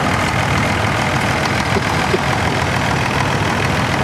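A 1957 Farmall 450 gas tractor, low hours, idles steadily at a show, its low engine rumble continuous and loud throughout with no talk.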